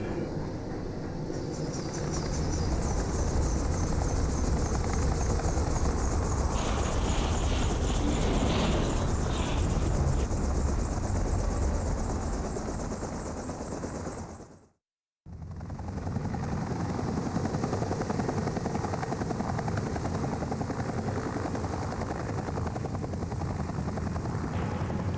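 A helicopter in the video game Outbreak 2 throbs with a steady, loud rotor and engine drone. Higher whines rise over the drone for a while. A brief complete dropout cuts in halfway, then the same continuous roar resumes.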